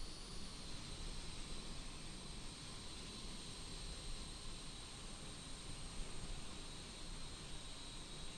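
Engines of an Antonov AN-225 Mriya idle in Microsoft Flight Simulator, a steady broad roar with a high whine running underneath, even and unbroken throughout.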